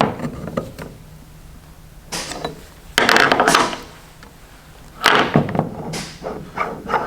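A set screw is snugged down on a 2015+ Ford Mustang shift knob during a reverse lockout install, heard as several short, close metallic clicks and ratcheting scrapes in separate bursts between quiet gaps.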